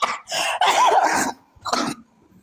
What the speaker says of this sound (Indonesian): Di mute kalau batuk, di mute dulu.